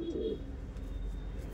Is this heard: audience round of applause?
no